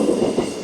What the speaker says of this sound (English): Here's the train coming, the K rail.